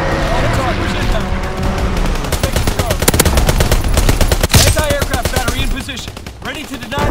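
Rapid bursts of strafing gunfire from a fighter pilot in Call of Duty WWII, a loud, dense rattle of automatic shots and impacts over game noise, with a brief boom midway.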